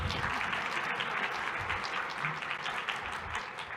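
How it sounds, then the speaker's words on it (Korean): Steady applause from a seated audience at a frontend developer conference talk, moderately loud and continuous for the full few seconds, with no speech on top. "제가 삐걱대지 않도록 많은 응원과 박수 부탁드리겠습니다."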